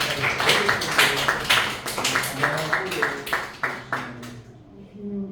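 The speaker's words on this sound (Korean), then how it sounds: "박수 쳐주시면" An audience claps in a church gathering, a dense burst of hand claps lasting several seconds before tapering off, with voices talking over it.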